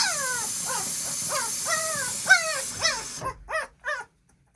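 Three-week-old tawny harlequin puppies whimper during their first bath in lukewarm soapy water, giving a close run of about eight rising and falling high whines and yips, the last few sharper and choppier before quiet.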